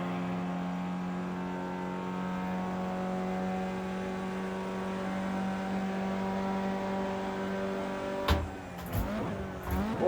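An Audi A1 Quattro in Project Cars 2 racing at Bathurst, its engine holding a steady droning tone for several seconds before a sudden burst of revving and pitch swings near the end as gears change.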